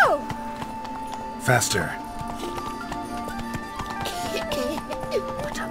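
Hooves of a galloping horse clatter in a fast rhythm in The Witcher 3 video game, mixed with game music and a brief neigh, while a voice speaks over it.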